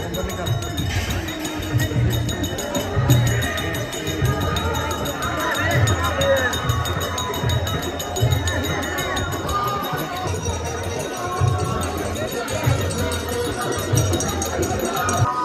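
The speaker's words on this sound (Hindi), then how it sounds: "पहाड़ में भीड़ नीचे भीड़ उधर भीड़, बहुत भयानक भीड़ है भाई" A large crowd of Sawan pilgrims on Dalma hill near Jamshedpur, climbing toward the Shiv temple in cold fog, makes a dense, continuous bustle of shuffling feet, murmuring voices and scattered metallic clinks and bell-like tings, steady and close throughout.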